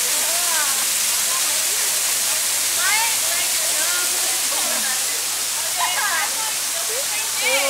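Loud, steady rushing water roars from St. Mary's waterfall, filling the whole clip, with voices and shouts of people swimming nearby heard faintly under the noise.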